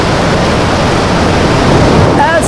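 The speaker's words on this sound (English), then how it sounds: "there is a pleasant mist coming from the waterfalls" Sipi Falls on Mt. Elgon in Uganda during the rainy season, a loud unbroken roar of falling water filling the whole scene, close and constant, with a faint bird-like chirp near the end.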